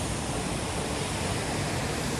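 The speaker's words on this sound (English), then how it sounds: "Check this out, massive waterfall from the middle here." A massive indoor waterfall in the middle of the multi-level Jewel complex at Changi Airport, heard as a steady, loud, broadband roar of falling water with no pauses and no voices.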